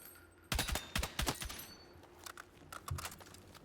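Full-auto gunfire from a weapon in Battlefield 6, several sharp rapid bursts of cracking shots up close, followed by a few scattered quieter pops.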